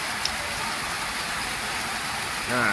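Rain falls at a welding work site during the rainy season, a dense, steady hiss of drops on surfaces, close and continuous, with a faint engine-like hum beneath.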